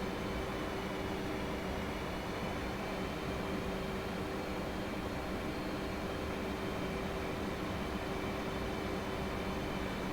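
Aircraft engine throttled up in the DCS World flight simulator: a steady, loud broadband roar with a constant tonal hum that holds evenly throughout, no talk.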